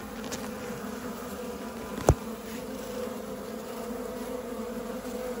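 Queenless honeybee colony giving off a steady, droning "crying" buzz at close range during a spring hive split, continuous throughout with one brief sharp knock partway through.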